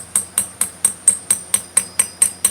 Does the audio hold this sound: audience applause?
no